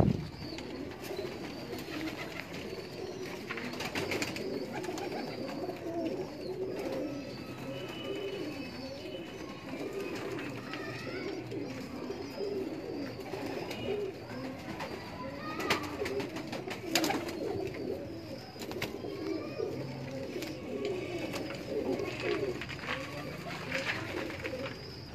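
Miyan Sahib breed pigeons coo steadily in a loft in Delhi Gate, inner Lahore, many birds overlapping in a continuous soft burbling chorus, with occasional wing flutters and a voice now and then.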